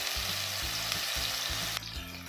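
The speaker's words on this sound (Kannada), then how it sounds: "ಆನಿಯನ್ ಸಾಫ್ಟ್ ಆಗೋವರೆಗೂ ಚೆನ್ನಾಗಿ ಫ್ರೈ ಮಾಡ್ಕೋಬೇಕು" Chopped onions fry loudly in hot oil in a kadai with two red chillies, a dense, constant sizzle close up that drops in intensity near the end, with no voices.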